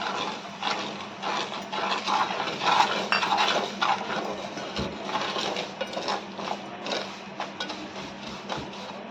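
Semolina roasts in ghee in a pan over low heat, stirred steadily with a utensil that scrapes and clinks against the metal in quick irregular strokes, close and moderately loud with a faint sizzle underneath and no talking.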